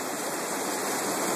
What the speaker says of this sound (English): this where you see the water running through the road that washed out on the left side